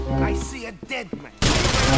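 Heavy gunfire in GTA IV erupts as a loud, dense fusillade, arriving abruptly after someone shouts and continuing as sustained rapid shots.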